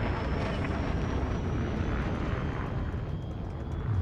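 A spaceship lifts off with its landing gear retracted in a video game, giving a steady, moderately loud engine roar and broadband rumble that holds throughout with no talk.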